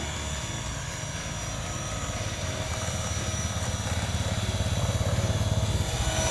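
A radio-controlled Bell 206 scale helicopter, size 450, flies circuits outdoors, its steady buzzing rotor and motor drone holding constant and growing slightly louder toward the end, with no voices.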